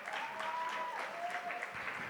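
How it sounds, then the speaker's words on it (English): An audience at a Canaan College matric dance applauds steadily, a dense wash of clapping throughout. "Can we please give him a round of applause?"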